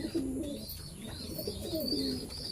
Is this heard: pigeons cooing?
yes